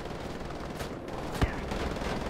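Gunfire in the shooter game Wolfenstein: The Old Blood, a rapid burst of shots over dense, busy game noise with one sharper crack standing out midway, loud and continuous.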